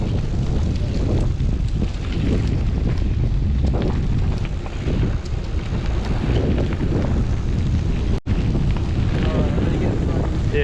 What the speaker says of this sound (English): Luckily we got the wind getting all this dust, pushing it to our left.